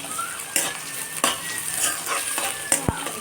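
Onions and vadagam sauté in a pan for a South Indian village-style vegetable curry, with a steady sizzle broken by several scrapes and clinks of a spoon stirring against the pan.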